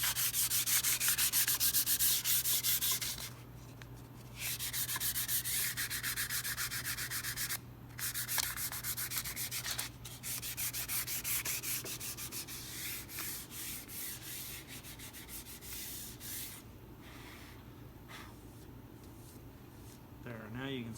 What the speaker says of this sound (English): I'll move to some 220 grit sandpaper and smooth it off really nice.